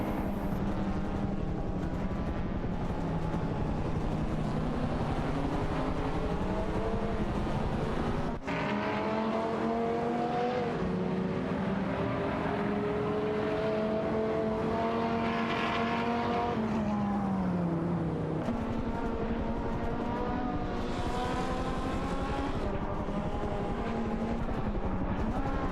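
Video game race cars, a Chevrolet Corvette C4 ZR1 and a 1999 Dodge Viper GTS ACR, roar through a race, their engine notes rising and falling in pitch as they accelerate and shift.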